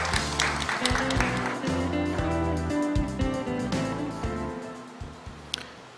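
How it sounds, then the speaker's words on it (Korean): An audience at a research results presentation claps to welcome a presenter onto the stage, with scattered hand claps over steady background music. "역시 여러분 박수로 모시겠습니다."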